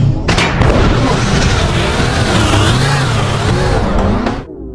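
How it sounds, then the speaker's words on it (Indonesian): A mafia boss's headquarters is blown up, producing a loud, sustained roaring blast with a deep rumble. It sounds close and dense, rolls on for about four seconds, then cuts off abruptly. "John meledakkan markas si bos mafia dulu karena ditakutkan ada beberapa orang yang belum tewas"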